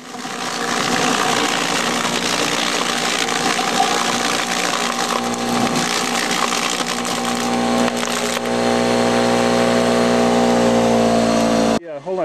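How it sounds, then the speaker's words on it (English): Electric motor of a garden composter, rated at 3,400 RPM with cooling fins, runs steadily while crushing apples for cider: a loud, continuous mechanical drone with a grinding edge that holds for about twelve seconds before cutting off abruptly. "the motor that we have on this garden composter, it'll run all day without overheating"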